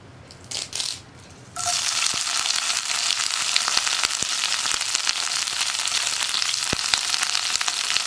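After a quiet start, curry leaves drop into hot coconut oil in a pan and burst into a loud, close, crackling sizzle with sharp pops that carries on steadily.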